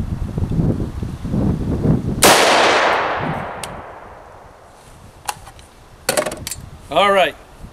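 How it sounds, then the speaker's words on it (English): A single sharp, loud shot from a POF-USA Revolution rifle, its report decaying over a couple of seconds, followed by a few faint metallic clinks and a brief rattle. "that's how the gun shoots"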